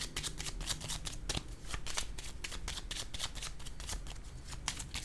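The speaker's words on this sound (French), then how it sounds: "je vais déposer une autre carte ici" Tarot cards handled and laid on a table, a dense run of quick papery flicks and slaps, close and fairly soft, with no voice.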